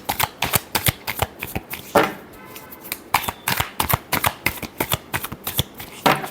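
Tarot cards are shuffled in quick, crisp riffles, a run of close, sharp papery flutters with brief pauses between bursts and no voice over them.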